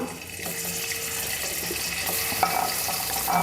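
Three onions added to a hot pan for a mutton curry, a continuous watery sizzling hiss with a few light stirring knocks, steady and close.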